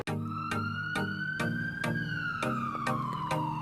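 Ambulance siren wailing in a steady rising and falling tone, loud and close, punctuated by regular rhythmic pulses for a few seconds with no talk.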